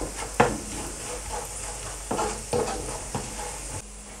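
Fried potatoes seasoned with salt and red pepper are stirred in a pan, giving a steady sizzle broken by several scraping knocks of the spoon against the pan, close and fairly loud, with no talking.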